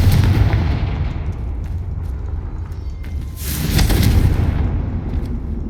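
Confringo blasting-spell explosion in Hogwarts Legacy, a loud rushing burst about midway that swells and fades over a dense, rumbling backdrop of game noise.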